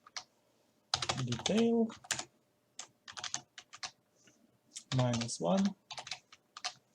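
Typing on a computer keyboard, scattered quick clusters of key clicks near the mic, interleaved with someone speaking.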